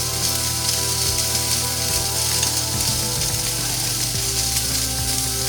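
Cauliflower sizzles and fries in a pan over high heat, a dense steady crackle with a few soft stirring knocks and scrapes, close and continuous with no talking.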